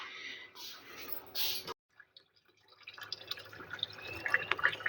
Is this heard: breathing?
no